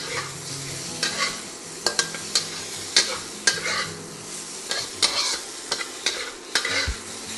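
Sliced ginger stir-fries in hot oil for a bitter melon beef stir fry, with a steady close sizzle broken by repeated sharp scrapes and clacks of a utensil against the pan.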